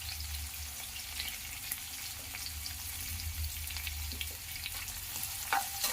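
Chopped carrots and beans frying in a pan with onions for vegetable rava upma, a steady soft sizzle with occasional stirring clinks, moderately quiet and continuous, no voices.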